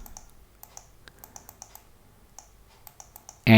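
Keys on a computer keyboard clicking in a quick, irregular run of typing strokes, close and crisp. The run ends in a louder, broadband thump as the Enter key is pressed.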